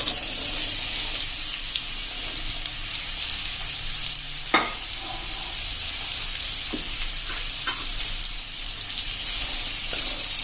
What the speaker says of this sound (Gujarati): હવે આપણું તેલ ગરમ થાય એટલે આપણે એમાં આ જે તુરિયા સમાર્યા છે એ નાખી દેશું